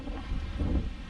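Wind gusting across an open disc golf course in Grand Prairie, Texas, a steady low rumbling buffet on the microphone that swells and eases without pause.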